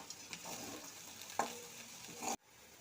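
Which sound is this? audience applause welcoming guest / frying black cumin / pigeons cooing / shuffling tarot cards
frying black cumin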